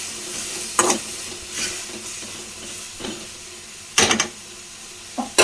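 Tomato gojju with turmeric frying in oil in a pan, stirred in a few separate bursts of scraping and sizzling spread across the stretch, with a steady low sizzle in between and no talking.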